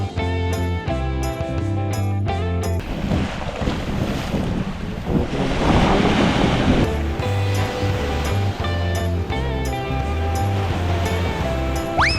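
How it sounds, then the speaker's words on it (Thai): Sea waves wash onto the sandy beach at Bang Saen, Thailand. A broad rushing surge swells in the middle with wind buffeting the microphone, all mixed under steady, louder background music. "นี่เรากำลังจะเดินลงทะเลนะ"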